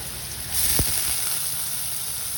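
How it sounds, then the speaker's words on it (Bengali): Potatoes drop into hot oil that was just used to fry peanuts, and a broad sizzling hiss starts suddenly and keeps going steadily at close range, with no voices. "বাদাম ভাজার তেলেই আমি এখন কিছুটা আলু ভেজে নেব"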